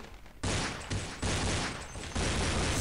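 Gunfire in Counter-Strike, dense rapid bursts of shots filling the sound, loud and close, with two brief breaks between volleys.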